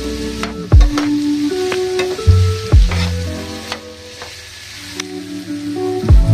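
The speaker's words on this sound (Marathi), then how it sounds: "कांदे ना 2 ते 3 मिनिटं ना परतून झाले" Onions frying in a pan over a high gas flame for paneer bhurji give a steady close sizzle with occasional stirring knocks, under melodic background music.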